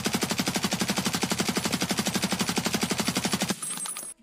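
Automatic gunfire from a rifle being tested in a shooter game: a long, steady, rapid string of about forty evenly spaced shots, loud and close, then cutting off into a short metallic click.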